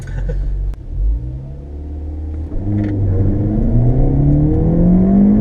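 A Ford Fiesta ST or Porsche Boxster S 986 accelerating hard from inside the cabin, the engine droning and rising steadily in pitch through the gears, loud and close with a brief bump early on.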